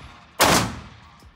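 A single sharp, loud gunshot from a Zigana Model F pistol, fired up close, with a decaying echo that trails off, followed by a faint click.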